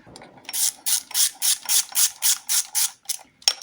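Ratchet wrench clicking in a quick even run of about ten strokes while tightening bolts on an Alfa Romeo 156's 2.5 V6 Busso 24v engine, close and crisp, ending with a couple of metallic knocks.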